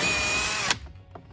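A power drill drives Torx screws on a Club Car Precedent golf cart, whirring loud and steady for under a second before stopping abruptly, followed by faint handling clicks.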